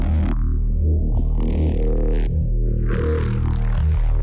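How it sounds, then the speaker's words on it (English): Distorted synth sound design with overly loud mids: dense, gritty, buzzing tones with heavy low end and a constant, saturated loudness. Several chord-like stabs shift across the passage with no voice present. "it's probably because of the distortion that I have here"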